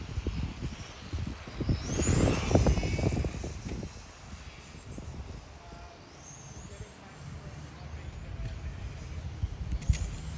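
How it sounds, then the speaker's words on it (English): Small racing model aircraft engines whine at RAF Kemble, a high-pitched buzz sweeping in and out as planes pass, loudest early on, mixed with outdoor ambience and some voices. "Here's a look at the aeroplanes, but I've seen some racing"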